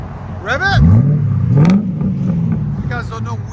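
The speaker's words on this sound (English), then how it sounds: "Rev it!" A 2006 Mercury Grand Marquis 4.6L V8 with a custom H-pipe exhaust revs up sharply twice, throaty and loud, with a brief rise and fall between bursts and a voice briefly audible nearby.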